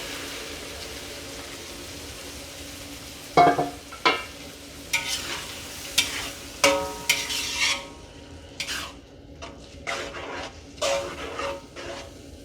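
Tamarind sauce with red chilli simmers in a pan, a soft bubbling hiss interrupted by a series of spoon clinks and stirring scrapes against the pan, close, with no talk.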